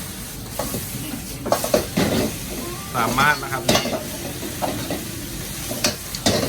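Busy sizzling and clanging of a wok being stir-fried at a Thai made-to-order food stall, with metal scrapes and bursts of hiss while someone talks over it.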